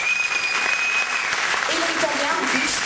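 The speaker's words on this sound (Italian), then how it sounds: "Je vous demande de l'applaudir très fort" Audience applause for an Italian singer at a concert, a steady dense clapping that fills the whole stretch at close range with a few shouts or whistles rising near the end.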